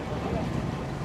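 Strong wind buffeting a fishing boat at sea, a steady roaring rush of broadband noise with gusty flutter against the microphone throughout the short stretch.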